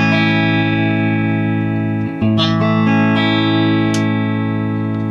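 A guitar chord rings out sustained, then is strummed again midway, bright strings shimmering and decaying slowly, with no talking.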